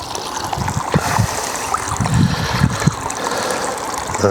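Water trickles steadily into a bait testing pond with a pump adding air, a continuous close splashing wash with a few louder gurgles throughout.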